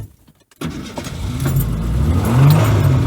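A Ford Ranger pickup engine roars and revs steadily after a brief silent start, wheels spinning in grass, loud and close with rising intensity.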